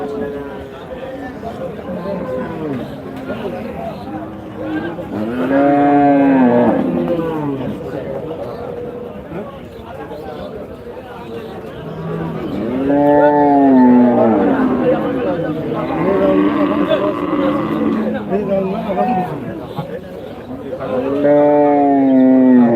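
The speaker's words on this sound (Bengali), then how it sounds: "প্রচুর পরিমাণে গাভী দেখতে পাচ্ছি আমরা হাটের মধ্যে" Dairy cows low loudly at a busy cattle market in Rajshahi, three long drawn-out moos spaced several seconds apart, with people talking in between.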